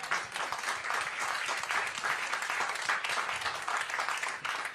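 A campaign rally crowd in Iowa clapping: dense, sustained applause from many people at a steady, fairly loud level throughout, with no voices rising above it.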